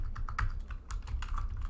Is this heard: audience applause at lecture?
no